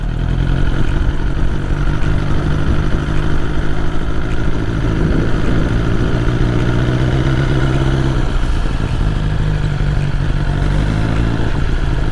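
A 2021 BMW S1000R Sport motorcycle ridden slowly in first gear, its engine a loud, steady close-up drone with a low throbbing note and slight clatter, continuous throughout without speech.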